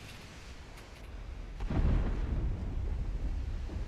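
A rolling thunderclap in a stormy naval battle in Ultimate Admiral Dreadnoughts, a deep boom swelling after a quieter start and then rumbling on steadily, broad and heavy with no talking.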